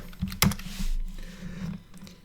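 Keys clack on a computer keyboard while a search is typed in, a few quick close taps and a brief burst of faint clicks, with no talk.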